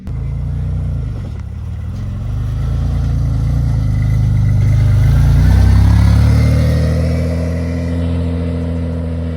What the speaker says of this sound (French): Le mec il nous a mis tellement bien avec les coups de gaz.